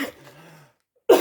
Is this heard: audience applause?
no